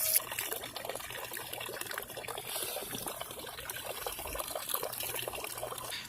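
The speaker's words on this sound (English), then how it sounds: "transfer the blackberries over to a square container and run it under the water" Tap water runs steadily over blackberries in a square container, a faint, even trickle and splash that lasts throughout with no talk.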